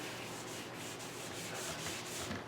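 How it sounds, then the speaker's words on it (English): Oil being lightly rubbed into a wooden surface by hand, a soft continuous scrubbing with a gentle back-and-forth rhythm, faint and close with no talking. "So I'm going to just put down some of the oil. And just lightly rub it in."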